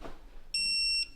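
A digital torque wrench emits a single clear electronic beep of about half a second on reaching its set torque during car engine work, sharp and close.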